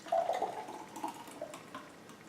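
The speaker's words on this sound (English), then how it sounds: "I'm going to pour this into a clear glass so you can see what it looks like" A blended chocolate antioxidant drink is poured into a clear glass, giving a brief close splash and trickle of thick liquid that fades into a soft, quieter flow.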